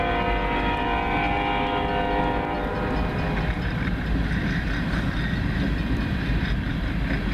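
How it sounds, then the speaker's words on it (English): Union Pacific ballast gravel train hauled by an SD70ACE rolls past steadily in snowy weather near Jacksonville, Texas, a continuous loud rumble of wheels and wagons with a faint horn-like tone early on. "I think this is a ballast train."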